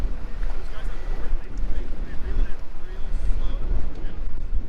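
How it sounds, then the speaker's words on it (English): Steady wind roars and buffets the microphone aboard a fishing boat out flounder fishing, a constant low rumble with a few faint background sounds mixed in. "Wind's kicking up a little."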